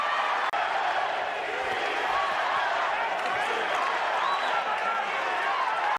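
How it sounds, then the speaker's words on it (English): A boxing arena crowd roaring at a Manny Pacquiao fight, a dense steady wash of cheering and noise, continuous and fairly loud throughout with no clear individual voices. "In the crowd, you can hear the crowd."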